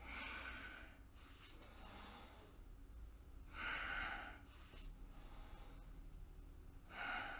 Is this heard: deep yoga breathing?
yes